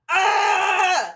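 A person vocally imitates a scream, one loud sustained shriek lasting about a second with a rough, strained tone that sags and cuts off at the end.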